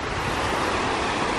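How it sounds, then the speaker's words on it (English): Steady, dense rush of falling water from a waterfall in Oregon's Columbia River Gorge, broadband and continuous at close range, with no voices over it. "All right, we found another waterfall."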